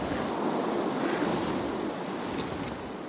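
Sea waves wash steadily onto a shore in a continuous, moderately loud broadband rush with gentle swells and no distinct breaks, blended with some wind.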